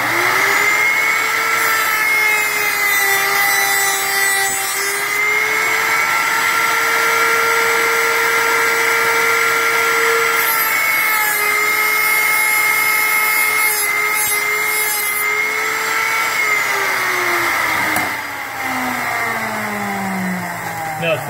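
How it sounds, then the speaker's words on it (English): A tensile saw cuts through semi-fibrous plastic with a sustained whining, buzzing motor tone that shifts pitch slightly as the blade loads, close and loud throughout, easing off near the end. "And now we're just going to go ahead and cut. We have this semi-fibery plastic,"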